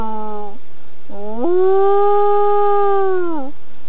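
A person's voice imitates a wolf howl, giving a short rising call followed by a long sustained howl that bends down at the end, loud and close with no other sound.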